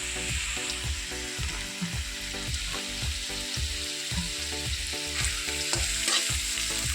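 Green beans fry in a pan for vegetable fried rice, making a continuous sizzle broken by a steady rhythm of spatula scrapes and stirs, close and moderately loud, with no voices.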